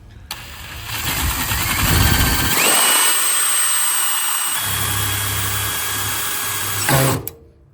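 Power driver self-tapping screws into a panel of a Hayward H400FDP gas heater: a loud, close motor whine rises, holds steady for several seconds with a shifting pitch as the screw bites, then cuts off abruptly.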